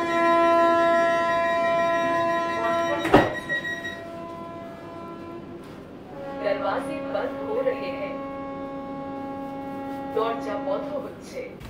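The saffron Vande Bharat Express 22227 pulling out of New Jalpaiguri Junction, heard from inside a chair car as a sustained tonal whine with a sharp clank and low rumbling movement.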